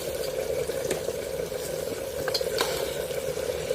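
Chuno fish chorchori, a small-fish dish with spring onion stalks, frying in a pan over medium-low flame as it is stirred. A steady close sizzle runs throughout, with light scraping touches.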